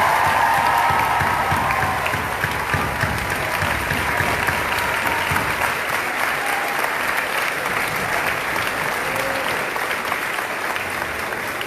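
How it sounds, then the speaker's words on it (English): A crowd gives teachers a loud, sustained round of applause at a state teacher of the year announcement, dense clapping that stays strong throughout, with a few faint voices underneath. "we give the teachers a round of applause."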